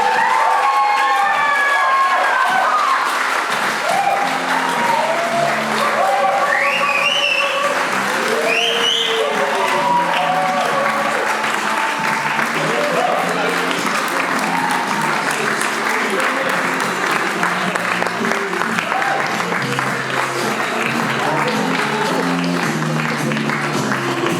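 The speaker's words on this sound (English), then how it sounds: "Can we all give a massive round of applause for Mr. and Mrs. Clark, your new bride and groom?" Wedding guests give a long round of applause and cheers for the new bride and groom, steady dense clapping with whoops and shouts, then scattered voices chattering under it as it continues.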